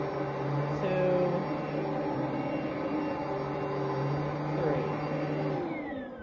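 An Oreck Halo vacuum cleaner runs steadily over carpet, with a loud, close, constant motor whine and hum that barely changes across several seconds, and no voices are heard.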